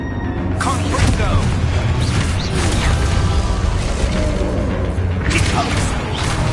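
Confringo blasting spell cast in the Harry Potter Hogwarts game, a dense run of magical bursts, crackles and mechanical clatter over a steady rumbling bed, with loud impacts near the start and end.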